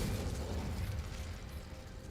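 Confringo fire spell cast in Hogwarts Legacy bursts in a short booming explosion, dense and loud at first and then rumbling down over two seconds, with no voices over it.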